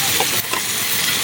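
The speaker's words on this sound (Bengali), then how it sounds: "যেটা ভাজা আছে এখন সস দিচ্ছে" Food frying in a wok as sauce is added and stirred, heard as a loud, continuous close hiss and sizzle with a couple of brief stirring scrapes.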